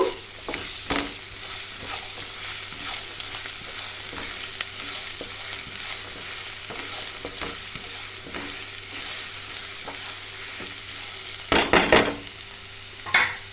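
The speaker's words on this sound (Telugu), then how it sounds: "ఒక పావు స్పూన్ అంత పసుపు, ఇంగువ వేసుకొని ఒకసారి కలుపుకుందాము" Turmeric and asafoetida are stirred into hot oil for mango pulihora, a soft steady sizzle with scattered spoon scrapes and a burst of louder clattering stirs near the end, close up and without speech.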